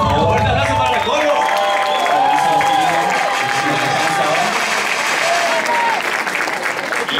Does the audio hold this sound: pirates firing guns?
no